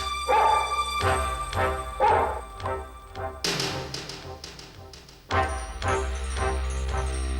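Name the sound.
dog barking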